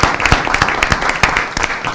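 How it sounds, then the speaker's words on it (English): Audience applause at a city council meeting, a steady patter of many hands clapping at close range with no voices over it. "Can I get a round of applause for Motorcycle Awareness Month?"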